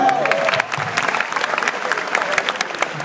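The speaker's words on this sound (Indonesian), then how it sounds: "Kasih tepuk tangan." Audience at a stand-up comedy show in Banda Aceh breaks into loud, sustained applause, a dense wash of clapping with faint cheering mixed in and a voice briefly heard at the start.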